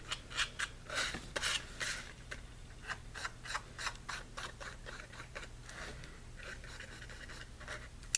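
A pencil sketches a heart shape freehand for a big fat pastie, producing close, quiet scratchy strokes in quick bursts, with soft rubbing and ticking between them.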